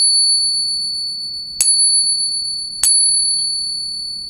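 A worn, heavily circulated silver coin with a worn-down rim rings with a high, sustained pure tone, struck twice at spaced intervals, each sharp tap renewing the shimmering ring over a faint low background rumble.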